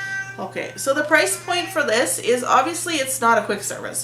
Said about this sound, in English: apologize for that little cat meow in the background